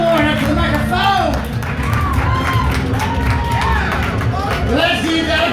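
Audience at a poetry slam final at the Utah Arts Festival cheers and claps in a steady, loud crowd roar that lasts throughout, with whoops and shouts rising over it.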